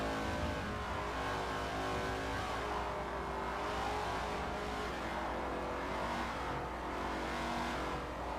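A race car engine drones steadily from onboard in a racing video game through the Porsche Curves of a French Grand Prix, holding a loud, continuous, rising-and-falling whine for several seconds without pause.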